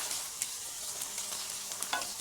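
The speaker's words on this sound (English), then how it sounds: "Now I'm letting this brown on the other side of the tofu." Garlic tofu pan-frying on an electric burner makes a close, continuous bright sizzle, broken by a few light ticks and pops, with no voices.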